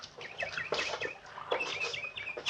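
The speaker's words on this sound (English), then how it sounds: "Hey, listen to that bird." Bright chirps and tweets from a bird outdoors in an old radio drama, repeated short calls at moderate distance, heard on their own without talk.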